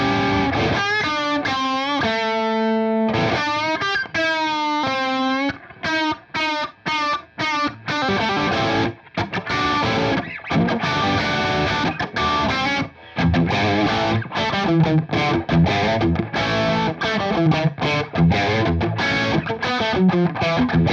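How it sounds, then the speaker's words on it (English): Electric guitar through a distortion pedal, set to a slightly overdriven clean tone, plays sustained chords and then quicker choppy phrases, loud and up close with no voices. "I love the way distortion pedals respond to a little bit of an overdriven clean."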